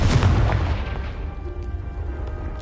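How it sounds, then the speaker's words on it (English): A Confringo explosion spell blasts a pile blocking a stairwell in the Hogwarts Legacy video game, a single loud booming burst up front that rumbles and decays over about two seconds. "Only one way to find out. Confringo!"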